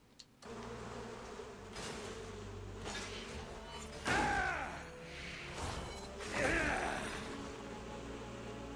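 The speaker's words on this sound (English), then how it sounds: "Could hear them buzzing." A swarm of bees and wasps in the video game Crimson Desert, a steady low buzzing drone under game music, broken by two louder whooshing, crashing surges, with no talking.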